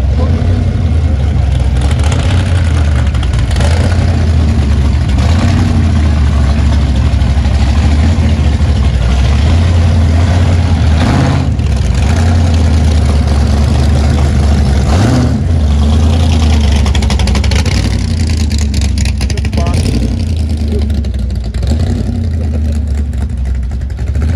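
Loud engine rumble close by at a hot rod and custom vehicle gathering, holding a heavy idle with repeated bursts of revving throughout.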